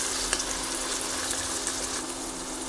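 Chopped onions sauté in about two tablespoons of hot oil in a pressure cooker: a constant close sizzle with faint stirring scrapes and no voices.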